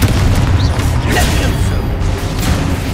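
A loud, rumbling blast from the Confringo fire spell in Hogwarts Legacy fills the space, heavy low booms and crackling debris continuing throughout without a clear break.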